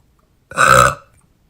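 A woman lets out a single loud burp lasting about half a second, close and clear against silence.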